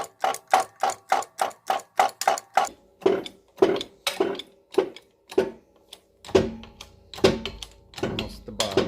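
A hand-pumped hydraulic press seats a wheel bearing on a Honda Prelude SH, giving a steady run of sharp, evenly spaced mechanical clacks and ratcheting clicks close by, slowing slightly toward the end with a low rumble underneath.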